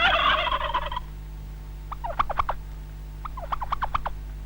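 A turkey gobbles in a 1990 Ossetian feature film, heard as two quick rattling bursts of gobbles after a short stretch of noisy sound.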